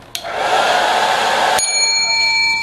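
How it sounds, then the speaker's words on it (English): A handheld hair dryer blows with a steady, loud broadband whoosh for about a second and a half, starting abruptly after a brief click, then cuts off as a ringing bell-like tone lingers. "You can now bake cookies with a hairdryer."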